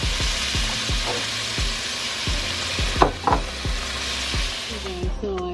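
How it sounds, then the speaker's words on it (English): Onion fries in a pan while being stirred, a steady close sizzle broken by a series of regular soft knocks of the utensil against the pan, plus a couple of brief louder clatters midway. "So this is our onion that is in now. So we're just gonna stir it."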